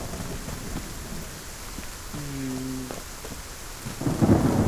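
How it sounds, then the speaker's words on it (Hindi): Game rain falls steadily in the Undawn mobile survival game's Redwood forest, with a low rumble of thunder rolling in near the end over a soft, continuous hiss. "देख रहे हो भाई बारिश हो गई है यार"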